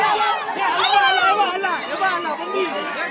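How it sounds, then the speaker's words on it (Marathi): Dense crowd chatter at Rani Baug zoo in Byculla, many overlapping voices of adults and children babbling close by with occasional raised calls, continuous and fairly loud. "गर्दी बघा"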